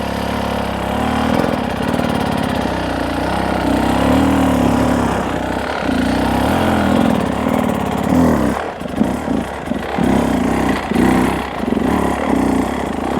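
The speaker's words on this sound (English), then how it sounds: "when you release the clutch, the bike is going to go forward again" A dirt bike engine idles close by as the rider works the clutch, a steady chugging drone with a few small rises and dips in pitch and some sputtering near the end, with no voices.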